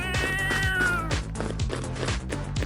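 Repeated Minecraft-style cat meows from a video game, with a synthetic quality, several short cries over steady background music.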